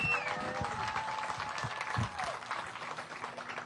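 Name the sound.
crowd applause at fishing tournament weigh-in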